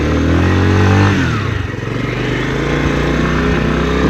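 A 1980 Honda CT110 Trail motorcycle rides off-road over rough, rutted ground, its small engine loud and close with a steady putter and a shift in pitch partway through, along with clattering from the bike.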